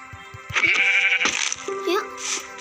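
A video game sheep bleats in loud, wavering cries, with brief soft clicks before it and a second, shorter bleat near the end.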